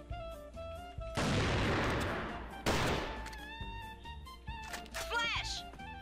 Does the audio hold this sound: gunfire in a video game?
yes